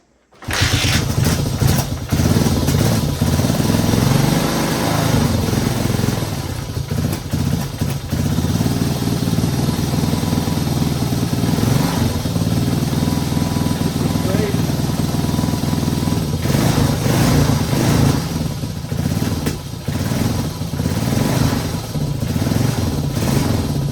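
A 1978 Suzuki DR370 motorcycle, pulled from a garage after sitting for over 25 years, idles steadily and loudly close by after being kick started. Its uneven, clattering single-cylinder rumble runs throughout, with people talking over it.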